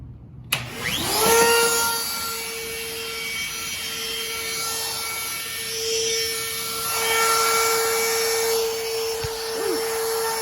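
A vacuum cleaner runs during the installation of base cabinets for a built-in, a steady droning motor hum starting abruptly and holding close and loud throughout, with occasional rubbing and scraping against it.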